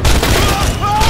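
Continuous dense gunfire in the video game Borderlands 2, a loud, steady barrage of overlapping shots filling the whole moment without a break.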